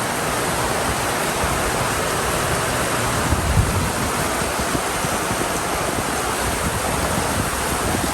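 A Florida storm roars steadily outdoors, with dense wind-driven rain forming a loud, continuous wash of noise throughout and no voices.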